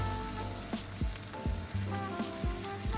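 A porterhouse steak sears in hot oil and butter, giving a steady loud sizzle with occasional pops and crackles.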